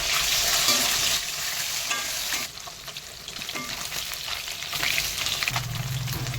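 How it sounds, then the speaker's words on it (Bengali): Salted pieces of catla fish fry in hot oil in a wok, a steady close sizzle with bursts of spattering and occasional stirring scrapes, loudest at the start and easing slightly later, with no voices. "আমি এবারে কড়াই তেল গরম হয়ে গেছে আমি ভেজে নেব"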